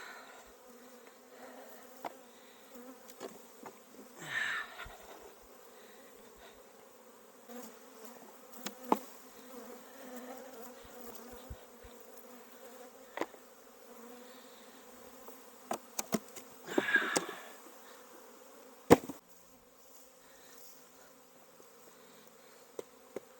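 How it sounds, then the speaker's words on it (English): Honey bees swarm around a hive in a production bee yard, giving a continuous faint buzzing drone. Occasional louder passes and clicks are heard close to the microphone. "there still could be a lot of bees down here"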